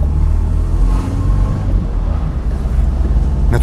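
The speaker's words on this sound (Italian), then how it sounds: "però sento un bel motore. Un gran bel motore." Alfa Romeo Giulia Sprint 1600 engine running with a steady, loud low rumble that swells slightly as it revs, with no talk over it.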